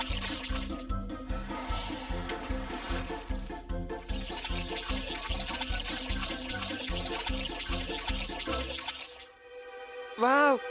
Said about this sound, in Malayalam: വെള്ളത്തിൽ എന്നെ പോലെ ആരെ കൊണ്ടും ഇങ്ങനെ നീന്താൻ കഴിയില്ല.